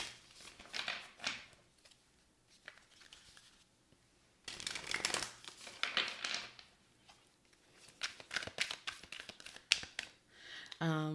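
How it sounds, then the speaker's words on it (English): Tarot cards being shuffled by hand in bursts of crisp riffling and flicking, close and fairly loud, with quieter pauses between the bursts and no talk. "the song that's coming to me as I'm shuffling for you"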